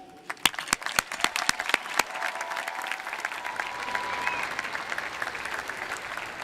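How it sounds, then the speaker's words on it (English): A few distinct claps open the clip, then an audience at a business school MBA commencement swells into sustained applause, a broad steady roar of clapping that stays loud to the end. "Please join me one final time in a round of applause and appreciation."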